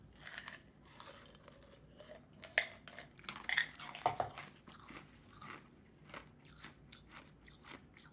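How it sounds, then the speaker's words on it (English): Ice being chewed close to the microphone, a series of crisp crunches and cracking bites at an uneven pace, quiet overall with no talk. "I'm just chewing ice because I like chewing ice."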